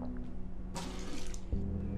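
Water splashing as a character washes at a fountain of tainted water beside a crafting bench in the game Abiotic Factor; a steady low hum, then a bright gushing splash in the middle and a fuller rush near the end.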